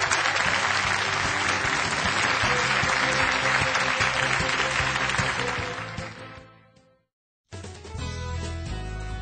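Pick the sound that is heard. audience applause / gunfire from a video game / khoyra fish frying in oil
audience applause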